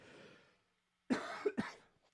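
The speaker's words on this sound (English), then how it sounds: "I don't know why I got this little cough today." A person's short cough, with a faint murmur before a pause, then two close harsh coughs bursting out near the microphone and trailing off.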